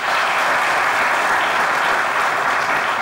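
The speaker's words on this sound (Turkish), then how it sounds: "Yazarlarımıza da bir alkış." Studio audience applauds the writers of a sketch on a Turkish comedy show, dense steady clapping filling the whole stretch at full volume with no voices on top.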